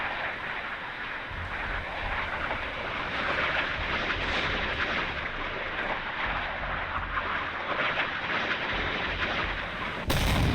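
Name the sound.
missile hits on the Kiev in video game Sea Power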